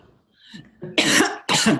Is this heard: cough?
yes